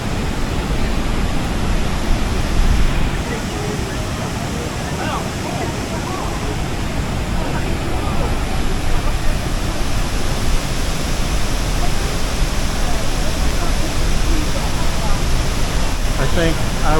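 Niagara Falls roars steadily from behind the falls, a dense, loud, continuous rush of falling water that fills the whole clip with no break.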